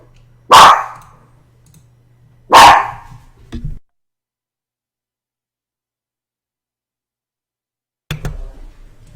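A dog barks twice in loud, sharp, close single barks about two seconds apart, followed by a brief shuffle, then near-silence before a short low rustle at the end.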